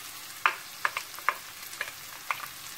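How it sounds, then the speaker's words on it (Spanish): Tomato frying in a pan for Basque piperrade: a soft, steady sizzle with a few light clinks and taps of a utensil against the pan at irregular intervals. "Podéis perfectamente echar el tomate ahí, ¿eh? Y freírlo."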